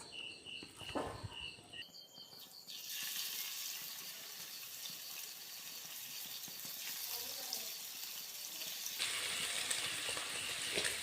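After a brief clatter, a loud, continuous sizzling hiss of tuna pieces frying in hot oil fills the rest, swelling slightly louder toward the end.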